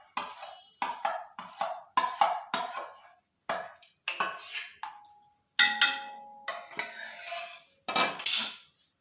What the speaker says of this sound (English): When you have put the condensed milk in, you have to then stir till it's completely combined.